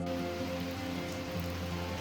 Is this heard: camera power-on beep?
no